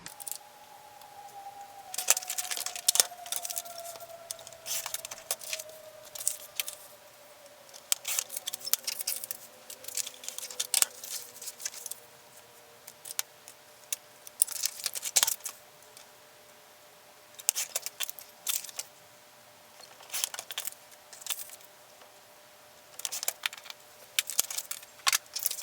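Scissors snip paper being trimmed to fit a junk journal page. Short, crisp cuts come in quick irregular bursts, close and fairly quiet over a soft background hum.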